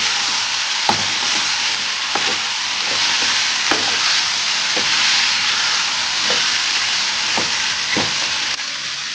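Ingredients, including ginger, sizzle and fry steadily in a pan for fish sambar, with a continuous bright hiss and scattered sharp clicks of a utensil stirring and scraping, close and fairly loud, no talk.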